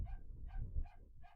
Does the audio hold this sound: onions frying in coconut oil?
no